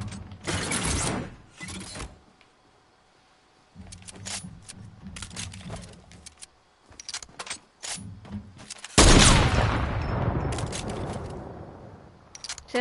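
Gunfire from a new turret in Fortnite: bursts of rapid mechanical shots stutter in short clusters, separated by brief gaps, ending in a louder, sustained blast of fire.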